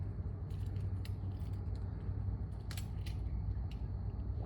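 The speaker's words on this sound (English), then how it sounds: "when I put my keys in my pocket" Keys jingle and clink faintly into a pocket in a few short bursts over a low steady engine rumble.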